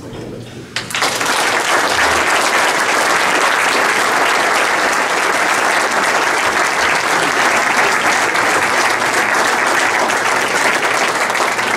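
Dinner audience at a golf tournament supper breaks into loud, sustained applause that starts suddenly and holds at an even, dense level throughout, with no voices standing out.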